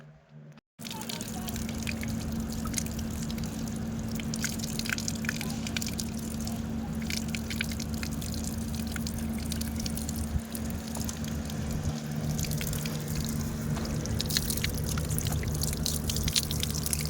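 Water splashing and trickling while a brush scrubs a dirty car seatbelt, a steady wet washing sound that runs continuously, with a voice speaking over it at times.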